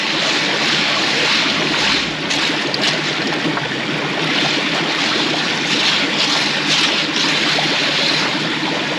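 Water sloshes and churns steadily inside a garden koi pond filter chamber as the filter is shaken and stirred to dislodge debris, a continuous close wash of splashing with no pauses.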